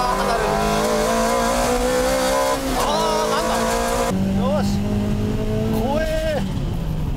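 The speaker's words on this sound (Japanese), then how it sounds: "さあ今度はシルビアが先行で逃げます。" A Nissan Silvia racing on a Japanese mountain pass touge, its engine droning loud and steady, pitch climbing and dropping through gear changes, with tire squeal and a second car's engine, under energetic Japanese commentary.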